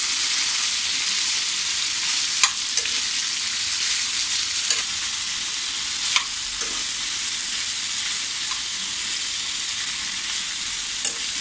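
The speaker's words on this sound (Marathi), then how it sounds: "असं परतून घ्यायचं आहे फ्लावर आणि बटाटा" Cauliflower and potato pieces stir-frying over medium heat in a pan, a steady close hiss of oil broken by a few sharp scrapes and clicks of the spatula, with no talking.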